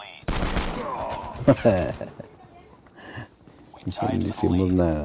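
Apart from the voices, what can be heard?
shotgun firing in COD Mobile video game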